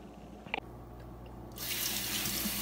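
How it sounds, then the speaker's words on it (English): Water runs from a tap into a sink as hands are washed, a brief knock at first, then a steady close rush of flowing water. "So let's get our hands all nice and clean."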